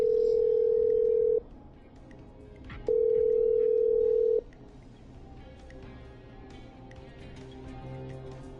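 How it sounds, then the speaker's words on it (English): A telephone handset puts out two steady electronic dialing tones, each about one and a half seconds long with a short gap between them, over a quiet background hum, with no talking. "I'm dialing."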